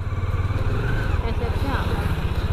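A tractor engine on a road gives a steady, close, rumbling drone with a pulsing beat. Talk and other street noise sit faintly over it.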